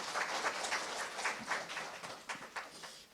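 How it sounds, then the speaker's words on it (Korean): A forum audience at a Korean food and drug safety event claps for a professor after his presentation, sounding faint and distant as a light, evenly paced patter of hands with no voices. "두 번째 발표해 주신 김주덕 교수님께 다시 한번 박수 부탁드리겠습니다"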